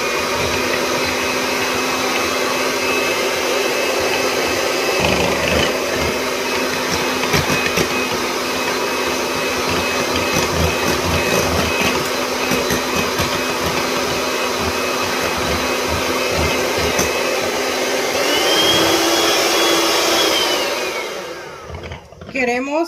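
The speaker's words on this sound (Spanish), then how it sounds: "ya aquí tengo mi batidora y vamos a empezar a mezclar esta mezcla de, pues para hacer nuestro mousse" An electric hand mixer beats a peach mousse mixture, giving a loud, continuous motor whir with a rough, churning texture that holds steady for about twenty seconds before winding down and stopping.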